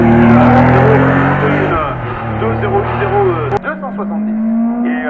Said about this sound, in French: Allez, Jean-Michel Godet en 2-0-8,